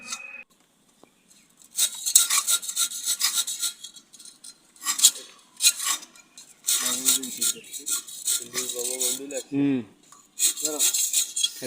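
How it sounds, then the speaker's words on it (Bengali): Pointing grooves being cut into a plastered rooftop wall cornice, giving repeated harsh rasping and scraping bursts with pauses between strokes, fairly close and loud, with some tonal squeaks mixed in. "পিলারে বা যে কোনো দেওয়ালে এরকম পয়েন্টিং কাটতে আমার খুব ভালোই লাগে।"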